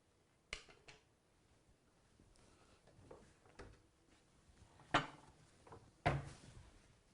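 A ladle clinks and knocks against a pot and bowl as Instant Pot Tuscan soup is served, with a few sharp scattered clatters and softer scrapes in between, fairly close and quiet overall, with no talking.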